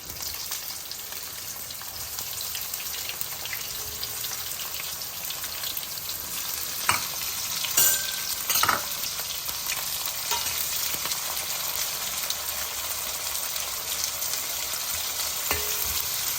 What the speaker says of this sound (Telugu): ఉల్లిపాయలు బాగా వేగాలి ఎర్రబడనిద్దాము